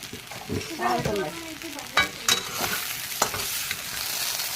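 Dhekiya fern bhaji frying and being stirred in a pan, a steady sizzle with scraping stir strokes and a few clanks of the utensil, close by, with a voice speaking briefly early on.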